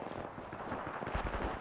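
Rapid gunfire in the battle royale shooter Apex Legends, bursts of automatic shots cracking in quick succession, fairly loud and close, with overlapping reports and no talking.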